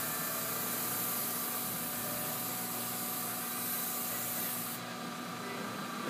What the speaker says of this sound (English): I'm going to check my spray pattern, make sure my spray is good